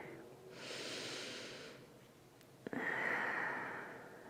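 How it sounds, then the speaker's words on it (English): Slow Pilates breathing, with a long soft inhale followed after a short pause by a fuller, airy exhale, close and quiet with no talking. "full breath in. Exhale, let it go."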